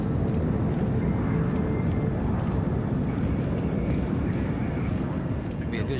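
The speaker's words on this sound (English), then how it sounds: "Awesome plane." A fixed-wing airplane engine in the video game Splinter Cell: Blacklist gives a steady, loud, broadband drone that holds without a break for the whole stretch.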